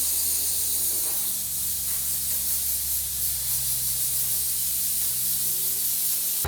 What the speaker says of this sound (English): I'm just going to blow it out with some compressed air